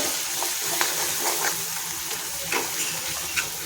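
Fresh cream mixed into frying chole masala in a pan, a steady bubbling sizzle with soft wet stirring strokes and a few light spoon taps, close and even throughout.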